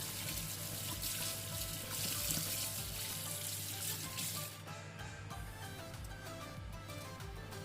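Fish rinsed clean under a running kitchen tap, a steady close rush of water splashing into a sink that shifts in tone as the fish moves under the stream.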